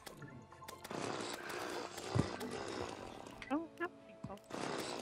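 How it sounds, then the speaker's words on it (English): In the video game Terraria, a chainsaw weapon revs and buzzes in rough bursts with sharp crackling hits and whooshing sweeps, moderately loud amid busy game sounds. "Megsy, I challenge you to a chainsaw duel."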